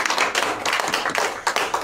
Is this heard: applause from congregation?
yes